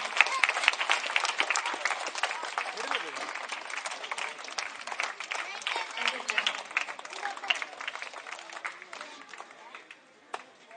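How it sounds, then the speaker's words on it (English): Audience applause for performing students at a school event, a dense wash of clapping that carries steadily for about ten seconds with voices mixed in, thinning slightly toward the end. "You could give them more applause because they have done very hard work for this"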